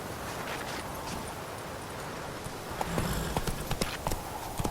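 Roach the horse's hooves clip-clopping in The Witcher 3, a rhythmic run of hoofbeats that grows sharper and more distinct partway through over a soft rustling, windy background.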